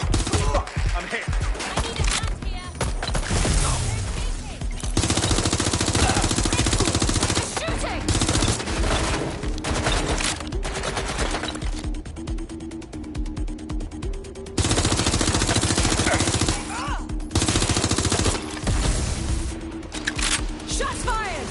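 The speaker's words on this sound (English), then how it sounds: "Shots fired!" Gunfire in the game Watch Dogs: Legion, with sustained loud bursts of automatic shots and rattling fusillades, near and harsh, broken by short pauses and continuing to the end.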